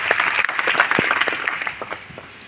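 An audience claps at a student honour ceremony of a Kshatriya Thakor community youth group in Idar. The applause is dense and continuous, fairly close, and fades slightly toward the end.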